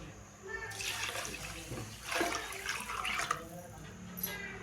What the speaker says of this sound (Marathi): हे पाणी याच्यामध्ये घालून घेऊया